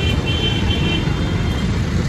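Heavy road traffic on a busy street, a dense steady rumble of engines and tyres, loud and continuous with no distinct passing vehicles or voices.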